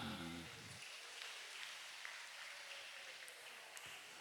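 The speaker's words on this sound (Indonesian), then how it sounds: "Tepuk tangan untuk anak-anak." A school audience applauds children after a Quran recitation at a high school gathering, with steady, fairly distant clapping from many hands that follows a brief spoken voice and continues evenly to the end.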